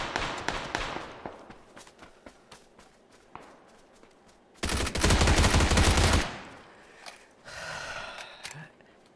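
Rapid gunfire bursts in PUBG, sharp and loud, with an intense sustained volley in the middle and scattered shots and footsteps around it.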